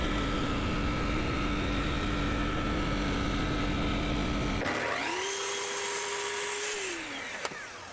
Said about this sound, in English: I'm going to run it down on the table saw to 26 mil